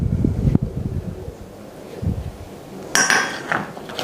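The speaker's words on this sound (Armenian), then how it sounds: "կրկին լավ խառնում ենք" A bowl of Armenian gata dough is mixed with olive oil, producing scattered clinks and soft scraping, with one sharper clatter near the start and another near the end.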